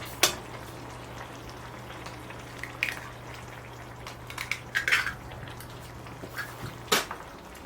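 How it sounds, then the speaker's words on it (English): Two free-range eggs cracked one after another into wells of Provençal-style sauce in a cast iron skillet: a few sharp, close shell cracks and taps over a low steady hum and gentle sizzle, no voices. "I'm just, like I say, cracking them into those wells I've made"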